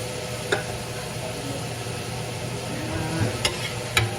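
Onion, garlic and ginger sauté in a pan for chicken sinigang, making a continuous sizzle broken by a few sharp clicks and scrapes of stirring.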